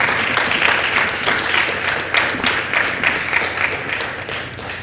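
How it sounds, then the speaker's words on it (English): Audience applause at a 2014 press briefing for the CARIFTA team, dense continuous clapping from a room of people, close and fairly loud, with a low background rumble. "I want you to give them a round of applause for the work that they're"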